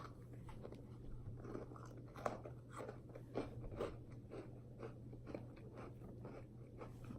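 Close, quiet crunching of a crunchy, cracker-like candy being chewed, a series of irregular bites and crackles over a low steady hum.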